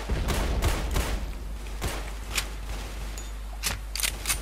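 Gunfire in the Roblox World War II game War Simulator: a burst of rapid shots followed by scattered single sharp cracks, loud and close, with no talking.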